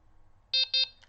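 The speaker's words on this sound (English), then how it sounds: "Wait for 2 beeps." Two sharp electronic beeps in quick succession from a Delkim Rx-D fishing bite alarm receiver being switched on, then a fainter short tone, against near silence.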